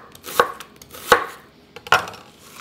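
A knife slices through an onion for kimchi braise in three crisp, separate chops spaced evenly, each a sharp near transient against the board, with quiet gaps between and no talk.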